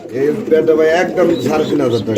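Danish pigeons, a pair offered for sale, coo in low throaty rolling phrases close by, running continuously through the clip alongside someone talking.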